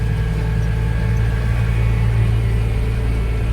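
Massey Ferguson tractor pulling a rake through grass, a loud steady low engine drone with a constant hum and no change in pace, close up and alone.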